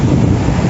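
Strong wind buffeting the microphone on a seaside cliff, a loud continuous roar with surf-like rumble in a very short burst.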